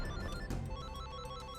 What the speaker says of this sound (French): Depuis quand est-ce que ce téléphone sonne?